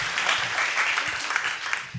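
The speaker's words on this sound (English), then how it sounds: "Yes, please applause for the comments." Brief, full applause from a conference audience for youth panelists discussing transboundary water management, steady and close throughout with no one speaking.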